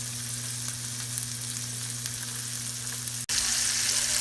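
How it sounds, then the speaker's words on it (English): Fat side of a steak sears at high heat in a hot cast iron pan, a loud, dense, steady sizzle that cuts off with a brief gap before resuming brighter and hissier. "I'm going to sear all the sides at high heat, starting with the fat side."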